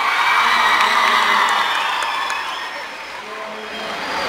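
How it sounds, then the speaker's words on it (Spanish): An outdoor concert crowd in Dolores applauds and cheers loudly, with whoops and high whistles over a dense wash of clapping that swells at first, dips briefly, then rises again. "Nuestro amigo Luis Burgio, un aplauso."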